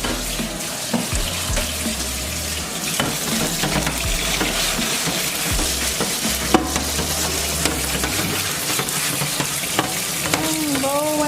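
Ground beef and bell peppers sizzle loudly in a pan while being stirred, producing a continuous crackling fry with repeated scraping and clinks, plus low rumbling handling noise beneath, close and busy throughout.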